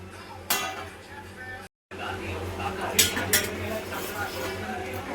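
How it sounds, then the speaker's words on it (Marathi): Carrot halwa simmering in milk in a pot over a medium flame, stirred with a metal spoon that scrapes and clinks against the pot, giving a few sharp clinks over a steady low bubbling hum. Nobody speaks. "आता आपण जरासा ढवळून बघूया."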